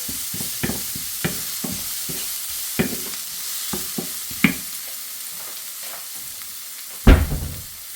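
Garlic and black pepper sizzle in a pan for beef pares, a soft steady frying hiss broken by scattered sharp clicks and scrapes of stirring, with one louder clatter near the end.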